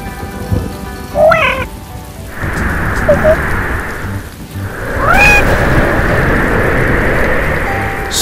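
Steady rain pours in a continuous hiss, joined by a low distant rumble and a couple of brief higher calls over the downpour.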